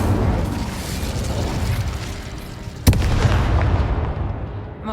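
A single sharp burst of the Incendio fire spell in Hogwarts Legacy, a brief whooshing crack standing out from a steady, dense game backdrop of rumbling ambience.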